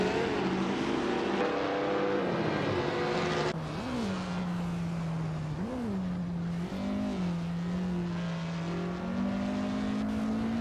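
1950s Formula 1 cars, including a Scarab, racing at Bridgehampton in an AI racing game: a dense roar of engines that settles into one close car's steady drone, its pitch dipping and rising through several gear shifts, with no talk.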